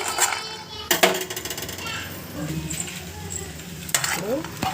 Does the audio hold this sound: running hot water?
no